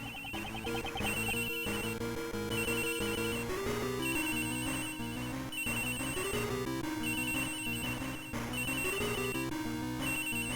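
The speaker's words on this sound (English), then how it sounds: "My cell phone." A cell phone ringtone from the Ace Attorney Investigations 2 video game plays loudly and steadily, repeating its bright melodic pattern over a thumping beat with no talk.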